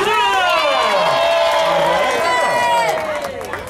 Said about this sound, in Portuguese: Mais palmas pro Júnior